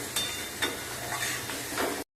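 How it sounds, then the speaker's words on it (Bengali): Tomato, salt and turmeric are stirred into a sizzling pan for mutton curry, with a few brisk stirring strokes over a steady frying hiss, close and alone. "এবার টমেটোটা দিয়ে দিচ্ছি, লবণটা দিয়ে দিচ্ছি স্বাদ মতো, হলুদটা দিয়ে দিচ্ছি, একটু নেড়ে নিচ্ছি।"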